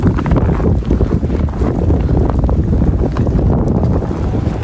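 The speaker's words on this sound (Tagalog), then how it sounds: "Taas pa ng hangin." Strong, steady wind roars and buffets the microphone for the whole stretch in heavy snow, a dense low rumble with no voices.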